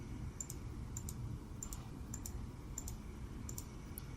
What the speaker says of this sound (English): we're going to type in all of our X values and press enter between